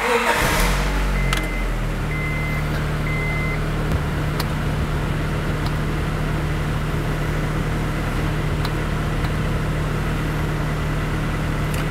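A car in a repair shop starts with a brief cranking burst, then settles into a steady low idle hum that runs unbroken, a few faint clicks and a short electronic beep sounding over it.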